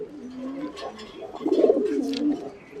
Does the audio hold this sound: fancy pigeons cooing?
yes